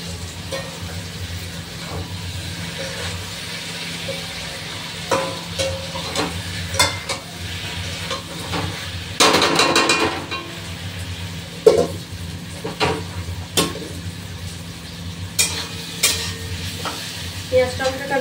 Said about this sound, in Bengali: পেঁয়াজ আর টমেটোটা ভালো করে ভেজে নিই।